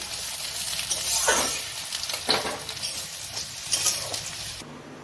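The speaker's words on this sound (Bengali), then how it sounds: "পেঁয়াজ আমি খুব ভালো করে ভেজে নেব, হালকা সোনালি রং হবে।" Onions frying in a pan toward light golden, a continuous close sizzle with a few louder stirring swishes and faint clinks, no speech.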